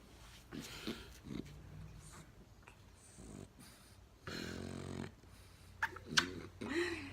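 A small dog, a pup, makes snuffling, snorting and faint growly sounds close by in a quiet room, in short bursts with pauses between them, while a person talks softly at times.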